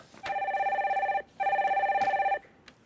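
A telephone rings twice in a call-in broadcast as the next caller is connected, each trilling electronic burst lasting about a second, clear and close with a short gap between.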